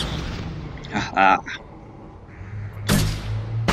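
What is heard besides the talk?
gunfire while shooting enemies in the video game Mass Effect 2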